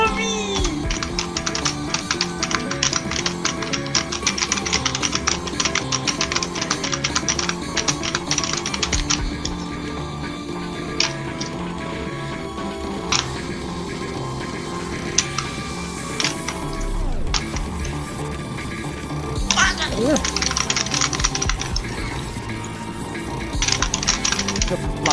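Rapid clicking and tapping of keyboard keys in dense bursts, continuing throughout with game music and effects playing underneath.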